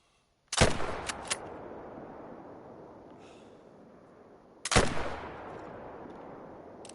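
Two sharp, loud rifle shots from a hunting rifle in the hunting game theHunter: Call of the Wild, a few seconds apart, each with a long rolling echo tail that fades across open terrain.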